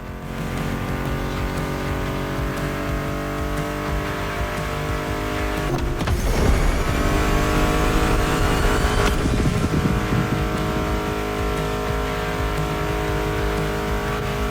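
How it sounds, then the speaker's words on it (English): Ford Mustang muscle car engines race in The Crew Motorfest video game, a loud continuous roar with a surge of revving around the middle, blended with background music throughout. "Meshes well with the sound of the engines, you feel me? I couldn't put you through a muscle car ride without some proper riffs"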